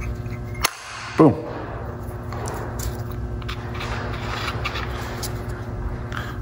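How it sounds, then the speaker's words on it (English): Piston rings snap into the bearing housing of a K24 turbo during a Volvo V70R rebuild with a 360° bearing. Two small, sharp metallic clicks sound close by over a steady low workshop hum. "That's the sound of the piston rings as they popped in."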